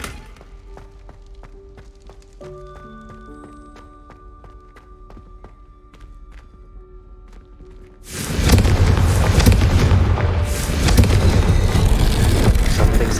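A Confringo fire curse bursts in Hogwarts Legacy, beginning with quiet tonal chimes and soft taps, then a sudden loud roaring blast that keeps up as a dense, sustained rush of fiery noise.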